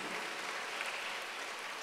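Faint, distant applause from a church congregation during a sermon, a steady spread of clapping lasting a couple of seconds.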